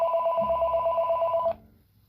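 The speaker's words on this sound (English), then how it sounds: "Oh boy, my first phone call of the day." A telephone rings with a steady electronic trill for about a second and a half, close and clear, and then stops abruptly.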